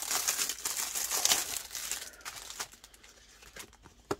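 Crinkly plastic storage envelopes are handled close up, giving a dense, loud rustle and crumple for about two seconds, then fading to a few softer crinkles and a final sharp crackle.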